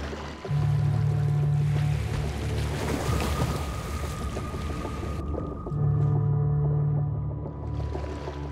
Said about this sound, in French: L'épaulard localise sa proie sous l'eau en émettant une onde sonore à haute fréquence.